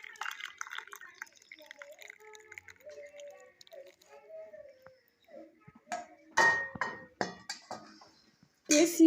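Freshly made tea is poured out and served, with cups and crockery clinking in sharp bursts near the end after quieter kitchen handling sounds and faint voice.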